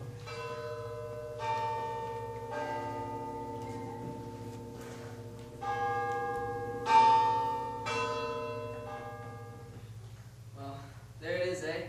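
A church bell tolls six o'clock on stage during a school fall play of A Christmas Carol. The strokes ring out one by one at a slow, uneven pace, and each rich ringing tone lingers over a low, steady hum.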